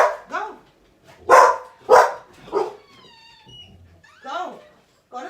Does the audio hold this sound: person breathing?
no